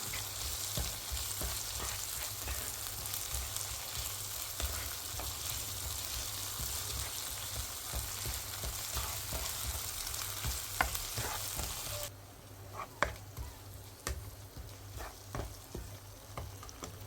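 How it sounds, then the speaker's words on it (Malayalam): Tomatoes sizzle and fry in a pan for biryani, steady close-up crackling with scraping stirs throughout, dropping to a quieter hiss near the end with a few sharp utensil clicks. "തക്കാളി ഇട്ടിട്ട് കൊടുക്കുക നല്ലപോലെ മൂപ്പിച്ചെടുക്കുക"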